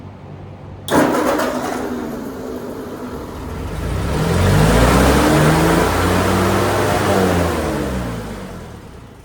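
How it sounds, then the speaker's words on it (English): A 1946 Ford 2N tractor engine cranks and catches with a sharp start, then runs loud and close at a high idle, its pitch rising and holding steady, with no one speaking. "That's way too much idle. That must be the governor. But it runs."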